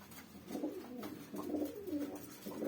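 Tumbler pigeons and their chicks coo in soft, repeated low calls that carry steadily without a break, close and fairly quiet.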